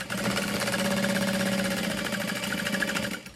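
A sewing machine stitching through the folded bottom of a fabric handbag, a loud, close, steady mechanical whir with rapid needle pulsing that runs unbroken and then stops.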